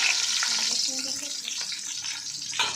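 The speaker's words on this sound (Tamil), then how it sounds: "இப்போ இடித்து வச்சுக்கிற சின்ன வெங்காயத்தை சேர்த்துக்கலாம்" Crushed shallots dropped into hot oil in a pan for a Tamil dish give a broad, steady sizzle that keeps up throughout, with faint stirring sounds and a slight swell near the end.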